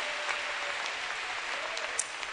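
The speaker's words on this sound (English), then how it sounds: "Clap your hands to Jesus." A church congregation claps along during a gospel service, a steady dense wash of many hands at moderate level with a few sharper claps standing out, no clear voices on top.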